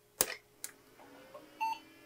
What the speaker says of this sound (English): I got a post beep.